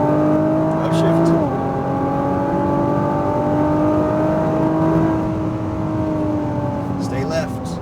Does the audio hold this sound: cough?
no